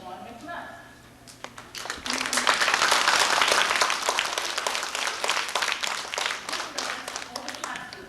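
An elementary school audience claps for poster contest winners at a 1989 Martin Luther King tribute at Hancock Elementary. Scattered claps start, then swell into steady applause that continues to the end, with voices talking over it.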